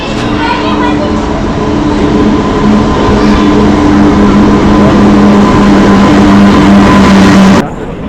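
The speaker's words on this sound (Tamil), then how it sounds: "ட்ரெயின் வந்துருச்சு." An arriving train rumbles loudly nearby with a sustained humming drone, while people talk in Tamil over the noise; the sound cuts off abruptly at the end.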